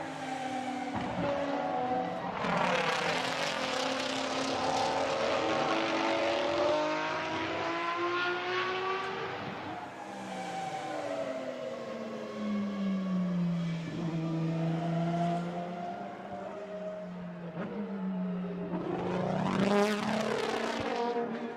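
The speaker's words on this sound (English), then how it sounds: "Hear how the engine's hardly running cleanly" A Lamborghini Huracan-based GT race car at a Barcelona circuit event, its engine roaring loudly and unevenly, swelling and dipping in pitch through revs and passes, with no one speaking.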